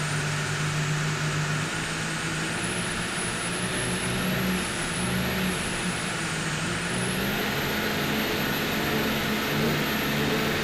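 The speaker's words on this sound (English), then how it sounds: "Diesel's got quite the funny sound, but they always run strong" A diesel engine on a P3 class racing powerboat roars steadily and loudly from onboard throughout a powerboat race, a constant dense drone with a high whine riding above it.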